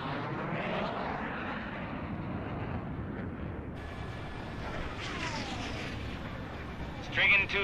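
A fighter jet in Ace Combat 6 roars steadily as it takes off, a loud, continuous engine rush that shifts partway through and ends in a brief sharp burst, with no talking.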